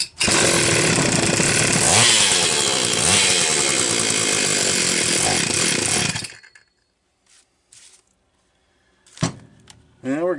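A Homelite XL-925 chainsaw engine runs on test at a loud, harsh high rev for about six seconds, then shuts off. A few faint knocks and brief handling noises follow in near silence.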